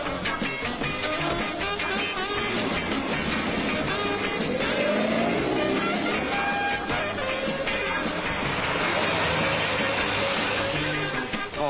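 Rally cars from the 1964 RAC Rally pull away and arrive amid a busy, continuous roar of engines, with rising revs and passing vehicles close by and a noisy crowd-filled background throughout.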